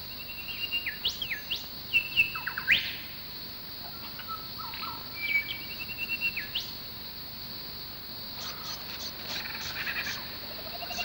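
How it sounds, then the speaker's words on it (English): Clear, melodious grey thrush phrases ring out over a steady high insect drone, with pauses between rising and falling whistled notes; no voices. "Grey thrushes' songs are loud and melodious and can be heard most of the year."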